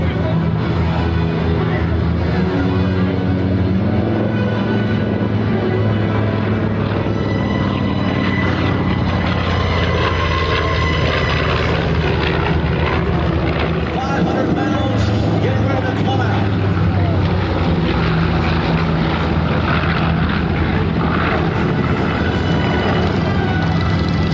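A WWII warbird bomber flies at an airshow, its loud propeller engine drone steady and continuous throughout as the bomber simulates a diving bomb attack on a warship, with an announcer's voice over the noise.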